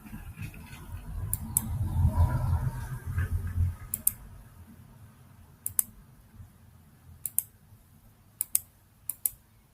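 A computer mouse clicks while features are selected in QGIS mapping software, giving sharp isolated clicks, some in quick pairs, spaced over quiet background after an early low rumble.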